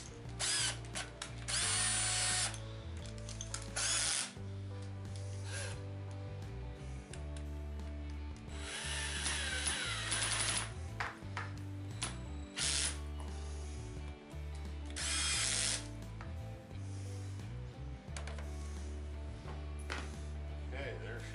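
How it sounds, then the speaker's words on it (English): A power drill set to a low torque setting drives screws into a Rovan 4WD RC car during a crash repair, whirring in repeated bursts with ratcheting clutch clicks, loud and close. "we're going to set our drill to a real soft setting"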